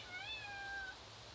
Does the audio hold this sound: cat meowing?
yes